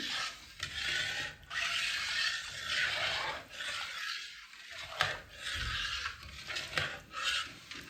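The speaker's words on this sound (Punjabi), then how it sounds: "ਖੋਚਣੀ ਨੂੰ ਆਪਾਂ ਲਗਾਤਾਰ ਚਲਾਉਂਦੇ ਰਹਿਣਾ ਹੈ ਦੁੱਧ ਨੂੰ ਆਪਾਂ ਕੜਾਈ ਨਾਲ ਬਿਲਕੁਲ ਵੀ ਜੰਮਣ ਨਹੀਂ ਦੇਣਾ" A spatula scrapes and stirs milk in a kadai over high heat while making gajar pak, a steady rhythmic rasping and rubbing against the metal pan, close and continuous with brief pauses.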